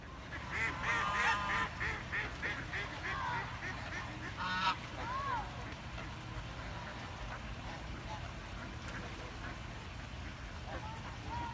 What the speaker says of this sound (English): There's a geese parade going on.